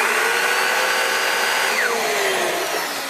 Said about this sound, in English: I just want you to realize that the brush is turning when I turn the vacuum on